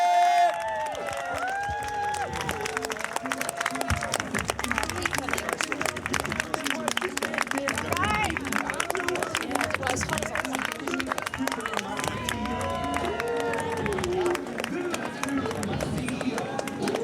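A crowd cheers and shouts in continuous, dense noise as the sailors' boat leaves the dock during a parade in Newport, with voices mixed into the commotion throughout.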